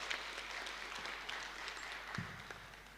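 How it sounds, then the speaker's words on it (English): An audience at a Kenyan government launch event applauding a speaker, a dense, steady clatter of many hands clapping that carries on evenly for a few seconds, fairly distant. "Let's appreciate him with a better round of applause."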